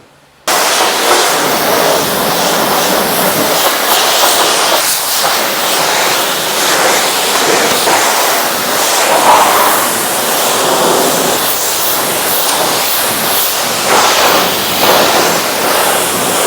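A high-pressure water jet rinses a car at a self-service car wash, a loud continuous hissing spray that starts abruptly and holds steady for over fifteen seconds.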